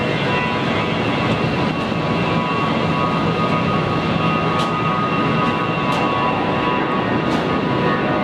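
An Alliance Airlines jet in special livery takes off at Brisbane Airport, a steady, broad engine roar that stays loud and constant throughout, heard from a distance with no talking.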